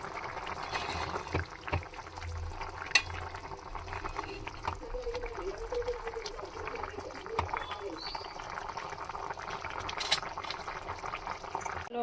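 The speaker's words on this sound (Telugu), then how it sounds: "పోసుకున్నాక ముక్క బాగా ఉడికేలాగా ఉడకనిచ్చుకోవాలి. ఇట్లా ఉడికేలాగా బాగా చూసుకోవాలి ఫ్రెండ్స్." Village-style chicken curry pieces simmering in a pot, a faint, steady bubbling and gurgling of liquid with small irregular pops and clinks running throughout at low volume.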